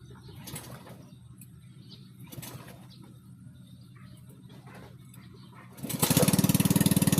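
A small engine, such as a grass trimmer or brush cutter, starts and runs after choke adjustment. A low idle is heard under background sounds, then a loud, steady revving roar fills the last second.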